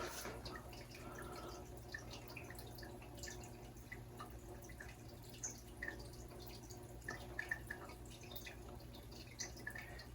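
Acrylic paint is poured straight from a cup for a fluid art piece, with soft, sparse drips and trickles, faint and close, over a quiet room hum.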